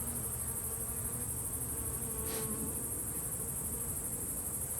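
Honeybees at an apiary hive fitted with a screen bottom board give a steady, dense buzz that holds evenly throughout, close and continuous with no talking.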